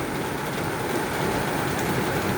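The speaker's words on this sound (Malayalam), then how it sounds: "ഇവിടെ നല്ല മഴയാണ്" Heavy rain pours steadily and close by, a dense unbroken hiss with no voices over it.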